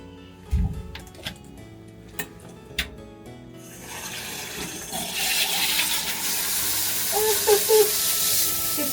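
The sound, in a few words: running water washing hair fringe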